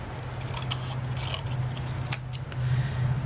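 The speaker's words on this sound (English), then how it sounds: "Then I'll just take a pair of scissors and just give this a little trim off." Scissors trimming a paper panel for a handmade fun-fold greeting card, giving a few close, soft snipping and rubbing cuts over a steady low hum, with no talking.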